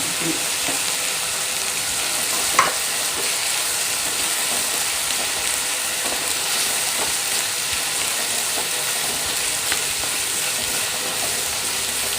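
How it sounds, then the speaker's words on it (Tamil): Ground pirandai paste sautéed in hot oil gives a steady, dense sizzle and crackle. It stays close and constant, with an occasional faint clink of a utensil and no talking. "நான் இதை அரைச்சிட்டு மறுபடியும் எண்ணெயில் போட்டு வதக்க போகிறேன்"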